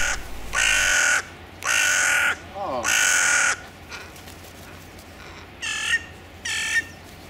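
Crows caw loudly in winter while being fed by hand, giving three long harsh calls in close succession, then two shorter ones further off, with quiet gaps between.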